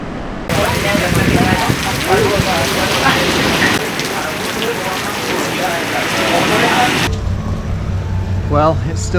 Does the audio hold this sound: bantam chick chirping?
no